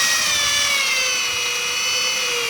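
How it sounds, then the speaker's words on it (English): A power drill bores out the centerpiece of a car bushing from the bottom on a KA24 300ZX, a loud, continuous high-pitched whine that stays steady throughout. "probably the best idea here is to flip it over and drill out from the bottom now"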